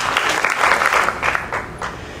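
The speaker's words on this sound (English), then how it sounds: "they certainly deserve a round of applause." People at a university's state-of-the-university address applaud, a loud burst of clapping that peaks early and then slowly thins and fades.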